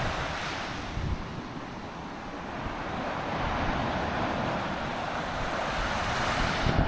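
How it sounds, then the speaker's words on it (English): Sea waves surging onto the shore at high tide near Freiston, a continuous roaring wash of surf with wind buffeting the microphone, steady and moderately loud with no voices. "you can probably hear the crashing of the waves"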